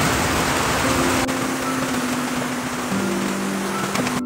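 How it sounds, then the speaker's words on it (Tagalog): Heavy rain pours down steadily as a dense, constant hiss with a faint low hum underneath and no voices. "Lakas ng ulan mga my friend."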